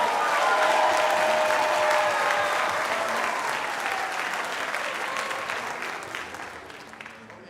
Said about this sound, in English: You can applaud, go ahead.